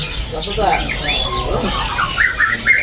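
Bright, warbling sooty-headed bulbul calls come in short repeated bursts, close by, alongside people talking.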